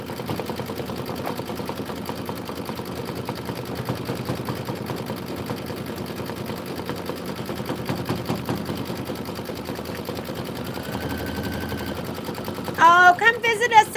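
An embroidery machine stitching out a quilt block runs at a fast, steady mechanical rattle, the needle chattering continuously under a person talking, with a brief sharper burst of clatter near the end.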